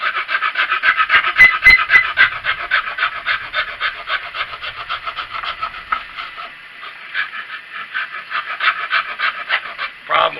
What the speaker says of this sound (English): What I would suggest on that epoxy is a file.